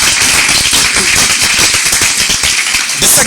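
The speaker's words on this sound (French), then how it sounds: "I want you to clap your hands" A church congregation clapping hands together, a dense, loud wash of many overlapping claps with a lively, crowded feel and no clear single beat.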